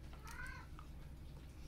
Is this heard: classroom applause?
no